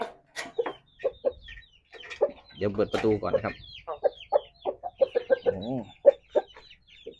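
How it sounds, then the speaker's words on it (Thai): Hens, roosters and chicks cluck and chatter nearby in short, repeated bursts while someone speaks briefly in Thai over them. "แม่ไก่พ่อไก่แล้วก็ลูกไก่นะครับเพื่อน"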